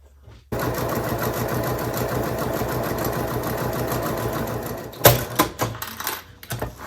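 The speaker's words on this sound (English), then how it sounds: "I'm gonna go ahead and just stitch right along this bottom edge using my 1/8 inch seam allowance" A sewing machine runs steadily, stitching along a pocket's bottom edge with a dense, continuous mechanical whir close by, then stops and gives way to a few sharp clicks and knocks.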